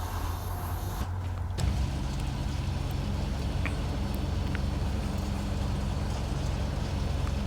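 Truck engine idling steadily in crane mode in the SnowRunner video game, a continuous low rumble heard alone throughout, with a short shift in tone near the start.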